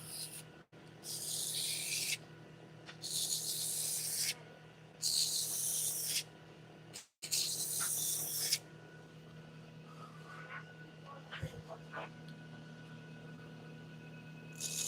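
Turned wood is sanded with 120 grit sandpaper on the lathe, giving loud bursts of harsh hissing abrasion in several passes of a second or two each, separated by quieter spinning, with softer rubbing toward the end.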